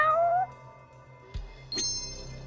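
A black alley cat in the video game Judgment gives a short, high, wavering meow at the start, followed by soft game sounds and a bright chime.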